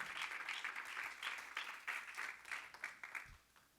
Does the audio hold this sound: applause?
yes